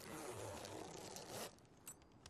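Clothing zipper pulled in a short burst of quick scraping rasps, close and faint, fading into a few soft rustles with no talk.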